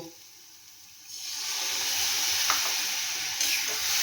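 Water poured into a pan of hot masala gravy sets off a sudden loud, steady sizzle and steamy hiss that begins after a quiet second and keeps going, close up, with faint bubbling crackles.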